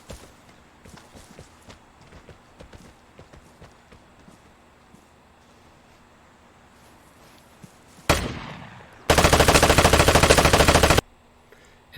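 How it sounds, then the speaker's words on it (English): An M249 light machine gun in the game Vigor fires one long, loud continuous burst of rapid shots after a quiet stretch of footsteps and small sounds, preceded by a single sharp report. "And the M249 is still shooting."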